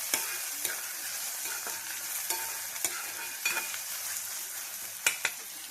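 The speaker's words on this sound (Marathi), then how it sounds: "टोमॅटो कांद्यासोबत चांगला शिजला जाईल." Tomato and onion fry together in a pan with a steady, close sizzle, broken by regular scraping and tapping from a spoon stirring them.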